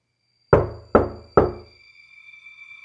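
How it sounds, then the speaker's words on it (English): Three firm knocks on a door, spaced about half a second apart, each ringing briefly before fading over a faint steady hum. "I did hear something. That was a door."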